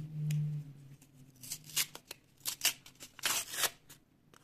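A handmade paper surprise packet rustles, crinkles and tears as it is opened close by, in short uneven bursts after a brief low hum.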